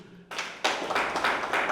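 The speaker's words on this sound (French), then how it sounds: "Applaudissez." Audience applause at a university ceremony in Congo, a burst of clapping that starts softly then swells into dense, sustained hand claps close by.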